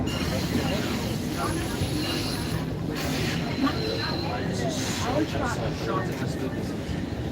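An Eglinton Crosstown LRT train in Toronto rumbles past nearby with a continuous rolling, whooshing noise, while voices talk over it throughout.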